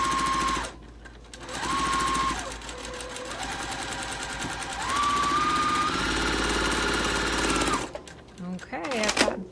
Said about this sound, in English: I've got both of those lines, both of those seams stitched on both sides of that diagonal line